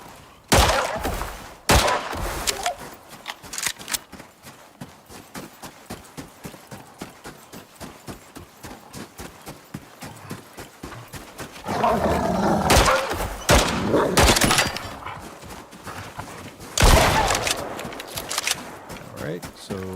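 Pistol gunfire in the survival video game Icarus rings out as a rapid string of sharp shots, some grouped in bursts, with louder blasts near the end, while someone talks over it.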